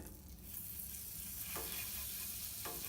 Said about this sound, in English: And see how it's sizzling like that?